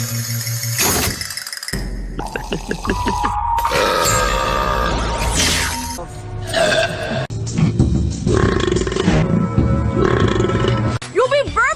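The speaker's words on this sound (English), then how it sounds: "You'll be burping like..." Animated cartoon characters let out a string of long, loud, gurgling burps and grunts, one after another with a few abrupt cuts between them and some voices in between.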